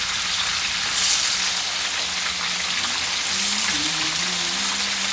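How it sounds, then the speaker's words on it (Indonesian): Dried fish frying in hot oil in a pan, giving a steady, close hiss and sizzle that holds evenly throughout, with no talking. "So ikan ni kita goreng dulu."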